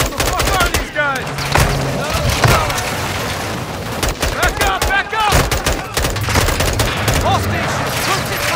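Heavy gunfire in Call of Duty Modern Warfare 2, with dense bursts of automatic fire and sharp shots crackling close and loud, mixed with shouted voices under the barrage.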